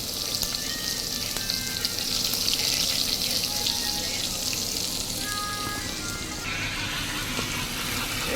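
Loud, steady sizzling and crackling close up as onion is added to garlic and curry leaves frying in hot oil, with faint scraping from stirring and no pauses.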